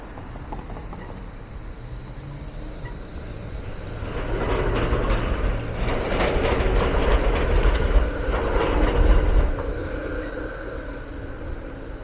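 A tram in the Docklands rumbles past through red lights with rising rail noise, clattering and squealing metal at its loudest midway, then fades as it moves off; no talking.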